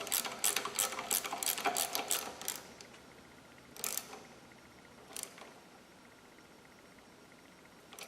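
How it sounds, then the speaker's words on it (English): A ratchet with a 1/2 inch (13mm) socket tightens a bolt during a Barton Hybrid 3 shifter install: a quick run of close, crisp clicks, then a couple of isolated clicks after pauses. "you're going to want to take a 1/2 inch or a 13mm socket and tighten that on up"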